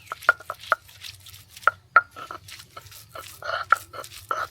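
Sajna and telakucha leaves are ground on a stone slab pata with irregular knocking and scraping strokes, close and fairly quiet, with a low hum underneath.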